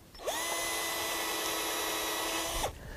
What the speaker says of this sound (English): we could even drill a hole